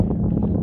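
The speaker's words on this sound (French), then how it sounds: "C'est parce qu'il y a du vent." Strong wind buffets the microphone on open plains on a cold, rainy night, a loud low rumble filling the brief moment with no voices.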